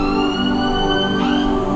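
A siren wailing loud and close, its sustained tone sliding in pitch over a short stretch.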